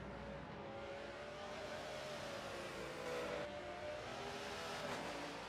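Race cars from two German manufacturers, one a BMW, run flat out down the back straightaway at Sebring in a racing game, giving a steady loud engine roar with rising revs, alone and without talk.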